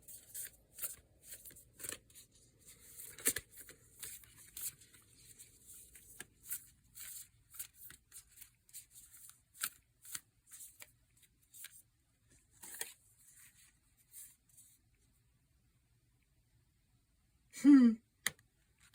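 Angels and Ancestors oracle cards by Kyle Gray are shuffled in soft, quiet riffling bursts with pauses between them, followed near the end by a brief vocal sound.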